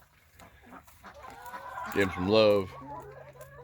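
Chickens clucking and squawking on a small family farm, a burst of harsh calls rising near the middle over someone talking softly and a steady low hum.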